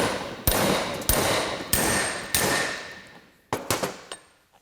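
A wheel seal on a Roxor being driven into place with the back of an oversized seal installer: four sharp metallic hammer strikes at even intervals, each ringing out, then a quick cluster of lighter taps, close and loud.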